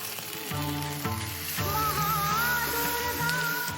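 Chili powder loosened with a splash of water sizzles hard in a hot pan, a steady close crackle with clicks and scrapes of stirring over it.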